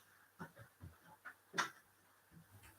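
A dog gives a few short whimpers and soft pants in quick irregular bursts, close and faint, with no talk.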